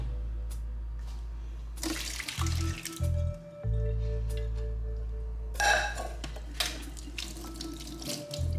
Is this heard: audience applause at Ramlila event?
no